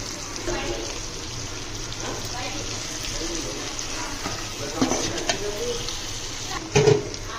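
Cluster beans dropped into a frying pan and stirred, a steady close sizzle broken by spoon clinks and scraping knocks that grow louder near the end.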